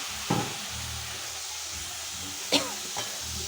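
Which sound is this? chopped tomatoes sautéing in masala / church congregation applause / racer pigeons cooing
chopped tomatoes sautéing in masala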